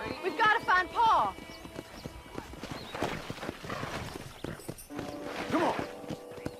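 Horse hooves clip-clop at a brisk trot in Red Dead Redemption, close and rhythmic, mixed with a whinny, game music and spoken dialogue over the top.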